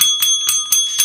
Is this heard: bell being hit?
yes